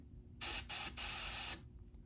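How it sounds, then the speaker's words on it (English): Three bursts of hissing aerosol smoke-detector test spray, each about a third of a second to half a second long with tiny gaps, loud and close, then quiet. "I'm going to activate the smoke detector by just spraying some smokes."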